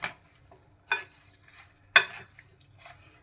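A spoon mixing cream for a fruit salad in a bowl, with several separate scraping, clinking strokes spaced apart, quiet and close, no speech.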